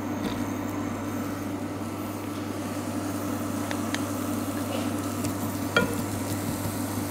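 Chopped onion sizzles in a hot frying pan, a steady crackling hiss over a low constant hum, with occasional scrapes and taps from stirring.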